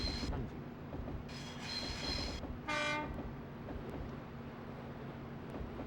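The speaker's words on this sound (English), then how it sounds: "Again, it's just a good idea to honk at everything." In the Densha de Go! Nagoya Railroad train simulator game, a train horn sounds in two blasts, the first longer and the second short, over the steady rumble of the rolling train.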